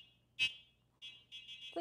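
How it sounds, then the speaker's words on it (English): The electronic horn of a Yadea Trooper 01 cafe-racer-style e-bike gives short, shrill beeps, one alone and then a quick run of several more, close and clear in a quiet room. "I'm going to see what the horn sounds like."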